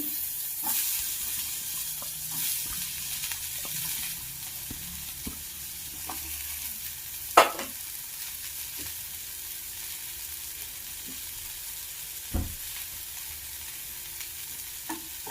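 Beans frying with salt in a pan for a coconut beans fry, a soft steady sizzle under scattered clinks and scrapes of a spoon stirring, with one sharper knock partway through.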